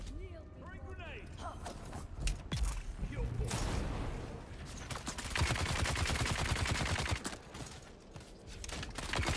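Rapid bursts of machine gun fire in the Dune: Awakening video game, crackling in close repeated volleys among other combat noises, with someone talking over parts of it.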